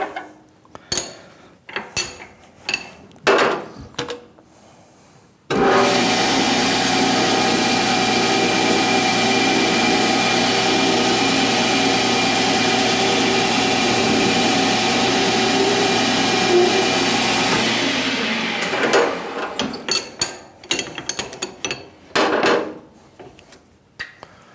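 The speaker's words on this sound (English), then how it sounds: "I'm just going to use a center drill for that." A center drill spots the end of a workpiece on a lathe while a toolpost grinder wheel guard is being made, producing a steady machine whir for about thirteen seconds. Clinks and knocks of tool handling come before and after it.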